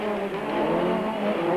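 Super trucks at a 1997 race, driven hard downhill with their engines revving loudly. A strained, tonal tire or engine whine runs throughout, close and continuous.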